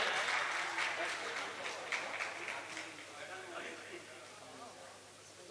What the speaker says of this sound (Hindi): भाई जोरदार तालियों के साथ सलीम साहब का इस्तकबाल किया जाए।